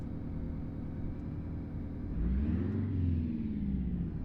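Truck engine idling after start-up in American Truck Simulator, a steady low rumble that rises into a brief throttle blip partway through, close and without voices.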